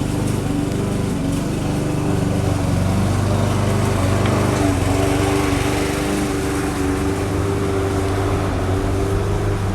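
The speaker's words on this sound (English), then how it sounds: "You probably hear my son mowing the lawn in the background." A lawn mower drones steadily in the background for the whole stretch, a continuous mid-distance engine hum with no voices over it.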